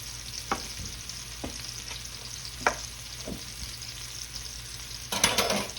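Hamburger steaks sear in a pan for old-school smothered hamburger steaks, a steady close sizzle with a few soft scrapes and a louder burst of frying near the end, without speech.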